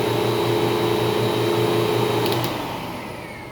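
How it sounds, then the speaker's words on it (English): An OP-110 Optimum floor care machine running with both vacuum motors on, a loud steady motor whine and hum that holds evenly, then eases down slightly near the end. "you always have to have both vacuum motors running"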